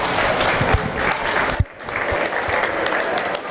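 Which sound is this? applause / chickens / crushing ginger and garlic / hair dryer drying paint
applause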